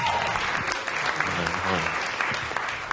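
Sustained audience applause at a TEDxSydney 2013 talk event as a presenter is welcomed to the stage, dense steady clapping filling the room with no voices over it.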